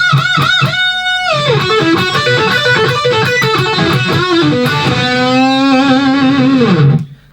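Overdriven electric guitar plays a guitar solo in a down-tuned setup, with fast bends, slides and sustained wailing notes. The playing is loud and continuous, ringing out at the end before a sudden cutoff.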